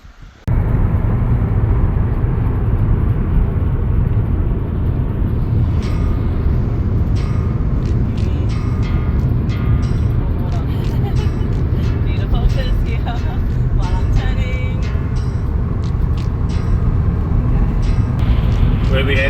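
Car driving along the road from Jurien Bay toward Geraldton, Western Australia, with a steady loud cabin rumble of engine and tyre noise throughout and faint clicks and knocks above it.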